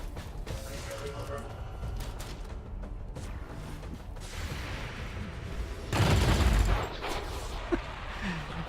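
Gunfire in the strategy video game Long War 2 on the Crypt Tower mission, with clustered shots and mechanical clatter, a louder burst of fire near the middle, and someone talking over much of it.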